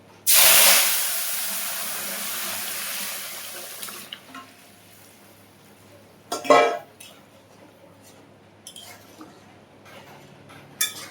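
Lentils tipped into hot tempering of five-spice and chillies in a pot, a loud burst of sizzling hiss that fades over a few seconds, then quieter clinks and a short second splash-hiss, no talking.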